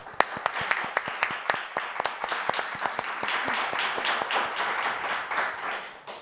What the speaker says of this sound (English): Please join me in giving Ms. Brenda Palms-Barber a round of applause.